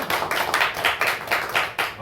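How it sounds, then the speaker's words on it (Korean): A congregation at a guest-pastor worship service claps in quick, steady rhythm, several sharp hand claps repeating evenly at close range with no talking over them. "잘생겨서 박수 쳐야 돼."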